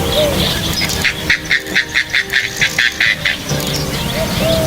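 Oriental darter (Anhinga melanogaster) in Southeast Asia giving a steady series of about a dozen evenly spaced, clicking or chattering notes, moderately loud over a noisy outdoor background.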